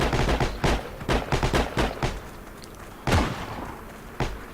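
Gunfire and heavy weapon blasts from the World War II video game Heroes and Generals, including a bazooka, come as a series of sharp booming shots in uneven bursts, with scattered single reports after them.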